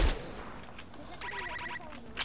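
Video game gunfire pops off in a short burst of rapid shots, loud and close, while players talk excitedly over it.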